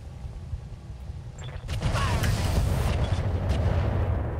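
Rockets fired at a mech in RogueTech BattleTech: a quieter rumbling lead-in, then a loud launch burst around the middle, followed by sustained booming, crackling impacts and mechanical creaks continuing to the end.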